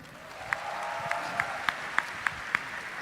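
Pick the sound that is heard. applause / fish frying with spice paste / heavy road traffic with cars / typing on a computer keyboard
applause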